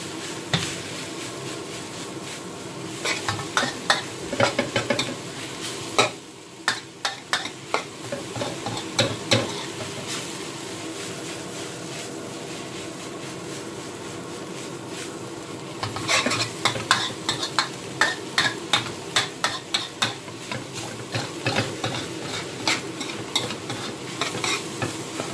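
Yuk Sung stir-fries in a hot pan as a ladle scrapes and tosses it in quick rhythmic bursts over a constant sizzle, with a quieter pause in the middle and no talking.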